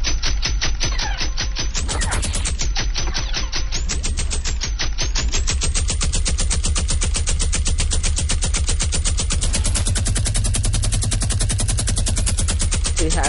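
Rapid, sustained minigun fire from a video game, a dense unbroken stream of shots rattling steadily for the whole stretch at close range and high loudness.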